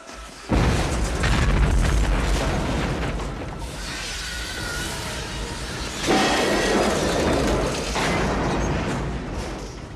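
A grenade blast in the horror-action film Virus, with a loud booming burst that rolls into a long, heavy rumble and swells again with a second surge midway, close and forceful, with no voices.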